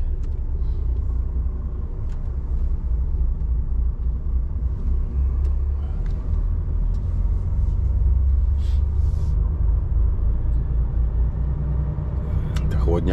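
Vehicle pulling away on a road in a French parking area, a heavy, steady engine rumble and road noise sustained throughout at close range, with a few faint clicks near the end.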